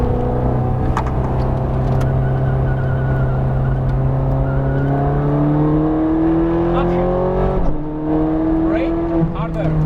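Ferrari F430 Scuderia race car lapping Las Vegas Motor Speedway, its engine droning loud and steady with rising pitch as it accelerates, a brief dip around a gearshift, continuous and close throughout.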